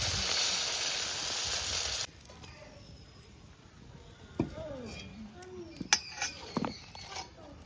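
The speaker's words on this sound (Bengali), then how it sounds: "ডিমগুলো ভেজে নিচ্ছি।" Snakehead fish eggs frying in very hot oil: a loud dense sizzle at first that abruptly drops to a faint crackle, followed by sharp pops, clinks of utensils and a voice in the background.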